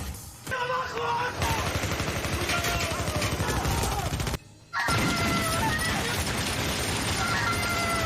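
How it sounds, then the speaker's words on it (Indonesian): Heavy gunfire from a police shootout in a TV drama: dense, loud bursts of automatic fire and smashing impacts fill the scene, stop abruptly for a short silent gap, then resume just as intensely. "polisi masuk ke dalam gedung dan di sini terjadi baku tembak"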